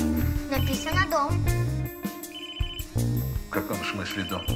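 A phone's ringtone melody plays repeatedly while children talk and bicker over it nearby.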